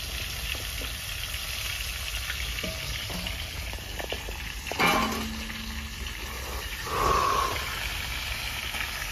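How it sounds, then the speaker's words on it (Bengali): Papaya pieces fry in leftover fish oil in a village kitchen, a steady hiss of sizzling oil running throughout with a couple of brief louder bursts of spatter and clinks of a utensil. "পেঁপেগুলো ভেজে নেবো, মাছের তেলে ছেড়ে দিচ্ছি"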